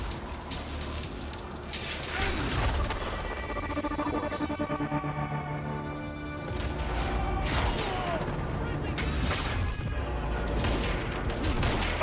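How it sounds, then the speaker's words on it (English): Sniper gunfire during a firefight in the video game Quantum Break: dense bursts of shots and crashing impacts over a constant backdrop of game effects, loud and sustained, with a lull near the middle before the shooting picks back up. "Snipers!"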